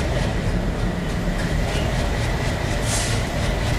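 Train engine rolling along the tracks in Train Simulator Bangladesh on a Rajshahi to Tangail route, a loud steady rumble with faint rhythmic clatter and a brief hiss near the end, with no voices.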